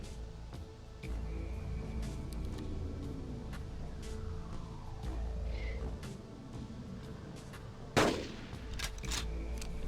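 A single gunshot while hunting in the Carnivores video game, one sharp crack near the end standing out over a low, steady game ambience.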